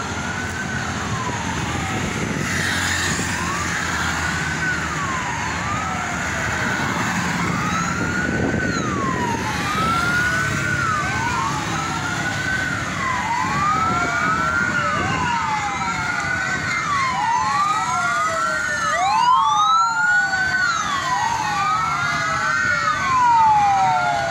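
A Damkar Banten fire truck's siren wails in repeated rising and falling sweeps, loud and steady as the vehicle circles nearby in the street, with traffic rumble underneath.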